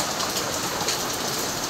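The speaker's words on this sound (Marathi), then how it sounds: "पाऊस खूप जोरात चालू आहे" Heavy windblown rain pours down during a storm in Surat, a dense, steady, loud hiss of falling water with no pauses and no voices.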